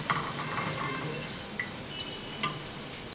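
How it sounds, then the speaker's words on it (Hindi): A batch of Mysore bonda frying in hot oil gives a steady, close sizzle and hiss, with a few faint clinks of a utensil against the pan breaking through. "सेम प्रोसेस से हम दूसरे बैच को भी फ्राई कर लेंगे"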